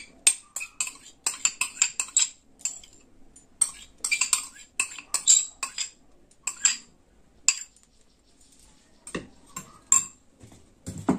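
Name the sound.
spoon mixing curd into rice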